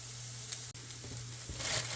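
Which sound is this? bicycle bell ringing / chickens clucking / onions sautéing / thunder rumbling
onions sautéing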